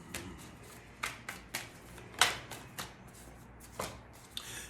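Tarot cards shuffled by hand in a series of crisp riffling bursts, a few quick flutters spaced irregularly, close and fairly quiet.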